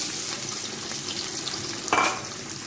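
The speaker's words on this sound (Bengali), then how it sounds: "তেল দিয়ে দিলাম আর এখানে কাটা পেঁয়াজ কুচি রসুন কুচি দিয়ে দিচ্ছি" Chopped onion and garlic hitting hot oil for a tempering, a steady close sizzle that flares briefly louder as more goes into the pan.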